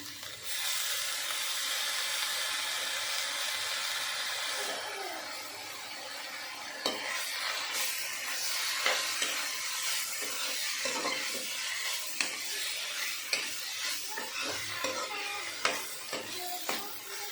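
Sliced banana stem being stir-fried and stirred in a hot pan, with a steady loud sizzle at first, then softer frying hiss broken by repeated scraping and clinking of the spatula.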